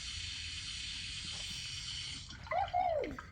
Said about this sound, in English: Then Pierre will spray water all over the kitchen.